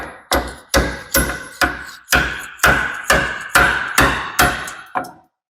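About a dozen sharp hammer blows at a steady rhythm tap a steering part into place on a Ford F100 with a Crown Vic steering setup. The blows are close and loud, stand alone, and fade at the end.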